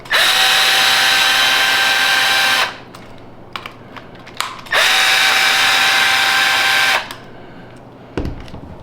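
A power driver backing out 2.5 mm screws from an Axial SCX6 RC crawler transmission, with two loud sustained whirring runs of about two seconds each, separated by small clicks and handling noises.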